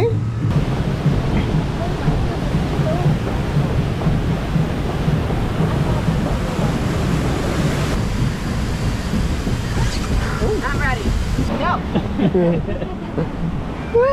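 Water rushing and splashing on a raft ride at Disney's Animal Kingdom, a continuous roaring wash with bursts of splash, heard up close under excited riders talking and shouting.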